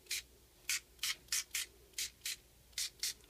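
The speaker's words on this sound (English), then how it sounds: "I'm going to take some paper and I'm just going to spray on top of it" Short bursts of blue color spray hitting paper, about ten quick hissing puffs in an uneven rhythm, close and fairly quiet with near silence between them.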